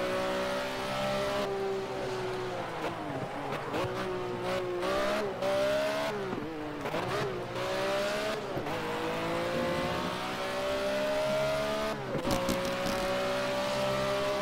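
Race car engine in Project CARS screams at high revs with repeated shifts and dips into corners, a loud continuous drone with brief drops and rises, no talking.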